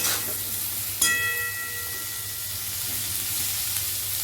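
Vegetables frying in a pan with turmeric and salt: a dense, even sizzle throughout, punctuated early by one sharp metallic clink of a utensil against the pan.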